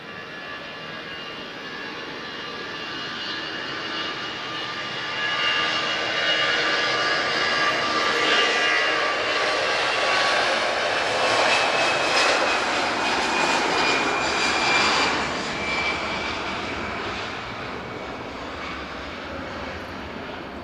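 An Airbus A320neo jet at Lisbon Airport produces a loud, sustained engine roar with a rising whine that swells toward the middle and eases slightly at the end, with no talking.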